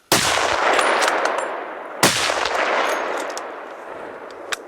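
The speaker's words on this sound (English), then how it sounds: "Shoot him again. Shoot him again. Shoot him again." Two loud, sharp rifle shots ring out about two seconds apart during a moose hunt outdoors, each with a long echoing decay across open country, and no one speaks.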